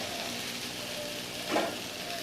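Ginger hits hot oil in a wok while making chickpea curry, giving a steady close sizzle that swells briefly into a louder hiss near the end.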